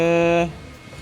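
An Ortur R2 laser engraver's fan gives off a loud, steady tonal whine for about half a second, then cuts out abruptly, leaving only a faint room hiss.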